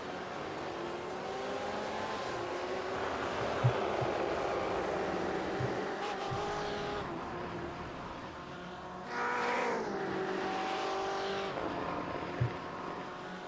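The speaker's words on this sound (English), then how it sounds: "Here's Emma Kruger on your screen, sitting 5th fastest in her BMW" A BMW race car on a track roars past nearby, its engine note rising and falling over a continuous background of racing engines, with a brief louder surge partway through and no voices.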